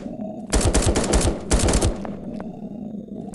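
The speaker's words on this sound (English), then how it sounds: "they're trying to shoot me down" Two quick bursts of rapid gunfire from the video game 1v1.LOL, each rattling for about half a second, followed by a fainter single shot against a low background hum.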